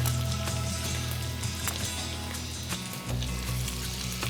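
Fenugreek seeds, mustard seeds, chilli and ginger sizzling in hot oil for Sindhi kadhi, a close, steady crackle with sharp pops scattered through and a faint stir knock near the end.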